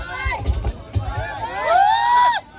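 A crowd gathered at a public event in Bhavnagar cheers and shouts, with voices rising into a sustained whooping roar that cuts off near the end.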